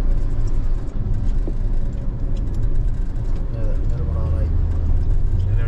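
A KSRTC bus speeding along a two-lane road, heard from inside as a continuous engine and road drone with people talking over it.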